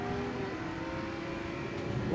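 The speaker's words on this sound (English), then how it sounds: "There's again the 100 of Briggs in the Unlimited class Mazda MX-5 Miata." A Mazda MX-5 Miata in the Unlimited class runs on a race track, its engine a steady droning hum at mid distance, holding a constant pitch throughout.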